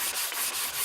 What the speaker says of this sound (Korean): 금방 물을 묻혀가지고 샌딩이 잘 안 되는데